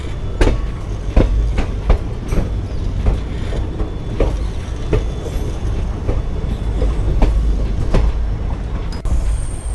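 Inside a sleeper class coach of the Jammu Tawi–Jodhpur express (train 19226) departing Bathinda, a steady rumbling roar carries a regular clickety-clack of wheels over rail joints, close and continuous with no talking.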